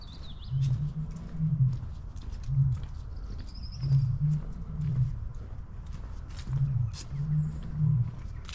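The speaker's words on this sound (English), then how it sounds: "You just hear the bears roaring." Bears at a wildlife park give low, rumbling roars in repeated groaning bursts, near and fairly loud, with faint bird calls above and no talking.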